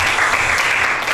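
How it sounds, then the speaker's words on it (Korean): A church congregation claps together during a Sunday worship service, producing a dense, steady wash of applause that holds at an even level for about a second. "박수 치시려면 확실하게 우리 치세요."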